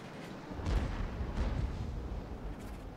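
Heavy, muffled booms of artillery fire in a tank video game roll out in quick succession over a constant low rumble of battle noise, with no voices.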